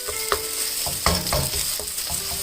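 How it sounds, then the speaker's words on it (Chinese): Chopped scallions stir-fried in a wok, with a steady sizzle under repeated scraping and clanking strokes of a spatula against the pan. "1分钟以后再放入葱花， 再让它炒香。"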